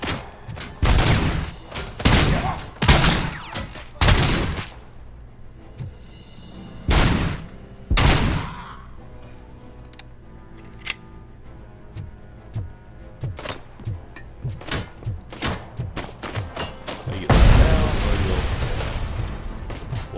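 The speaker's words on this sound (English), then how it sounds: "Why are you throwing grenades willy-nilly through? Throwing gas cans." Heavy gunfire bursts and booming grenade explosions in the RoboCop Rogue City video game, loud and close, with rapid volleys, scattered single shots and a big blast near the end.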